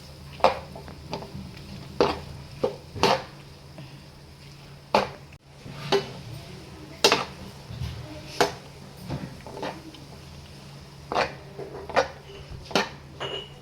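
Fried beef is mixed into tomato masala in a pan for a Goan beef chilli fry, heard as spaced, sharp clacks of a spoon against the pan with quieter stirring between them, close and without talk.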